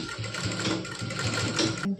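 A sewing machine runs steadily, stitching a hook strip on fabric. Its motor hum and fast needle clatter stay close and even for the full two seconds, with no talk.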